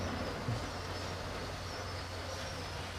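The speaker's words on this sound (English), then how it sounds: "Ooh, hear the rumbling of that train." A LEGO model train runs along its track through a large LEGO city layout, giving a steady low mechanical rumble that holds at an even level throughout without pauses.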